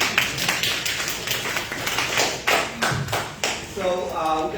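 Applause at a City of Canton meeting, with close, uneven claps and taps from a room of people over a few seconds, while someone talks over it.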